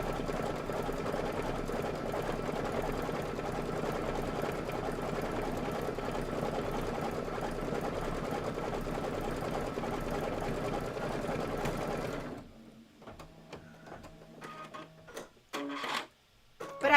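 A Luminaire sewing machine runs in a steady, continuous stitching whir for about twelve seconds, then stops, leaving a few quieter clicks and short bursts of mechanism noise.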